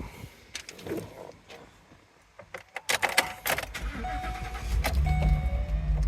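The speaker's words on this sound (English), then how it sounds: "We'll go ahead and give her a start up." Keys jangle and clicks inside a 2014 Lincoln Navigator Limited Edition, then the SUV engine cranks and starts, settling into a steady idle with a faint chime.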